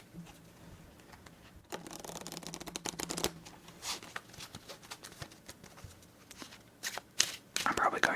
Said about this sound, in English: We're going to shuffle pretty quick before we move on to the next game